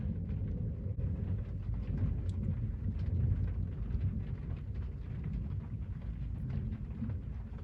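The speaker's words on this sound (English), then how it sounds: "Wow, it's storming and it's raining. You could hear the thunder." Steady rain and low rumbling thunder roll on without pause, a dense wash of storm noise filling the whole stretch with no voices over it.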